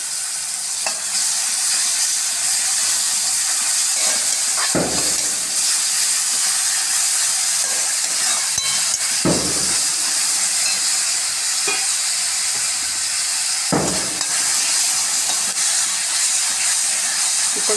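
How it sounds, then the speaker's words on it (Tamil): Onion and ginger-garlic paste sauté in a pan with a loud, continuous sizzle and hiss, broken by a few sharp scraping stirs, and no talk over it. "பாருங்கள் வெங்காயமும் இஞ்சி பூண்டும் வதங்கிட்டு"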